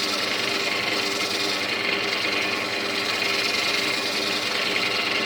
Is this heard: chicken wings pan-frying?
no